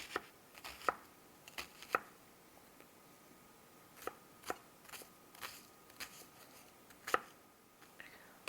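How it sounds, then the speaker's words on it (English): A knife chops red onion on a cutting board in irregular bursts of sharp, close taps with short pauses between, against a quiet background and with no talking. "Now we'll go ahead and work on our little red onion."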